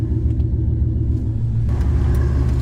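Steady low rumble of a GMC Denali single-cab pickup truck engine running near, loud and continuous with no talk.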